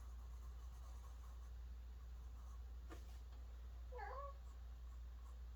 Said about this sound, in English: I don't know if you can hear my cat. He's talking to me.